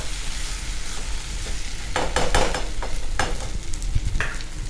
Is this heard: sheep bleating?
no